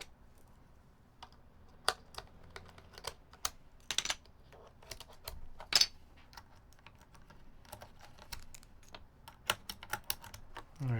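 Typing on a mechanical keyboard fitted with GMK keycaps, a quiet, close run of uneven clacking keystrokes with occasional louder presses and no talking.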